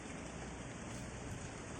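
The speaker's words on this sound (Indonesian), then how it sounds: "aduh, malah hujan" Steady rain falls outdoors over a rice field, a faint, even hiss of drops with no pauses and no voices.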